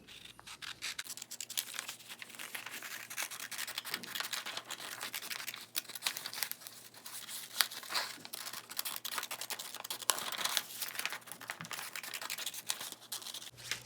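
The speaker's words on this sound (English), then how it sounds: "grab a pair of scissors and cut out the outline of your hand" Scissors snipping paper to cut out the outline of a hand, a steady run of dry crisp scratchy cuts and crinkles close by, fairly quiet and continuous with no talking.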